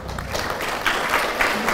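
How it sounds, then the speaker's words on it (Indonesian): A lecture audience claps steadily, a dense wash of many hands from start to end, heard alone without any voice. "Saya tahu mengapa mereka tepuk tangannya belakangan"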